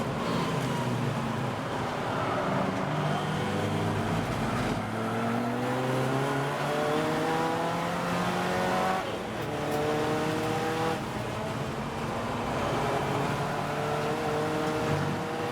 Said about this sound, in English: As they make their way then through what is lap 9 of the race, and it is still Bradley Burns that leads the way in the Volkswagen.